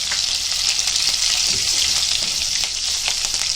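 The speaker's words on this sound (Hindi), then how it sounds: "अभी देखो, ये लहसुन डालेंगे, छाछ बघार दे रहे।" Garlic sizzling in hot oil for a buttermilk tempering, a constant loud crackling hiss with scattered pops, close up and without talk.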